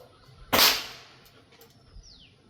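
A single firecracker bursts somewhere off at a distance, one sharp crack with a short fading tail over a quiet background, followed by faint stray sounds.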